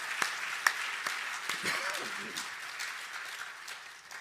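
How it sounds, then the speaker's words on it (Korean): Church congregation applauding in honor of mothers during a Sunday sermon, a broad wash of clapping with a few sharp claps standing out, steady and moderately loud throughout. "이 땅의 모든 어머니들을 위해서 우리 한번 박수로 한번 격려해드리고 칭찬할까요?"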